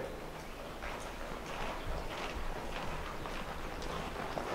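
A horse lopes along, its hooves giving a soft, fairly even clip-clop under steady wind noise, moderately distant and faint throughout.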